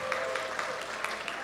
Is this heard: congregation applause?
yes